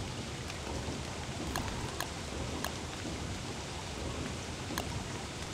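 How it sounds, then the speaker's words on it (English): Steady rain hisses evenly in the video game Don't Starve Together, a soft, continuous wash with a few faint drip-like ticks scattered through it. "It's still raining."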